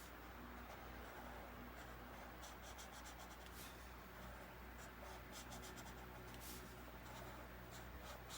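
An orange marker scratches across a coloring book page that has paper underneath it. The strokes are quick and repeated, close and faint, with a rhythmic rubbing and squeaking and no talk over them.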